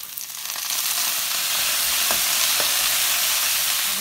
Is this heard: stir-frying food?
yes